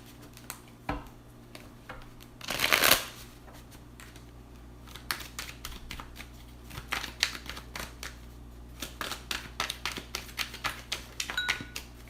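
A deck of tarot cards is shuffled and handled up close, a brief loud riffle burst followed by a long stretch of quick, soft, irregular card snaps and slides.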